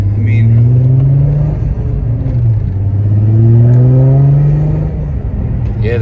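A supercharged VR6 engine in a Mk3 Jetta revs loud and close, its pitch sweeping up and falling back in two long surges, with voices talking over the engine.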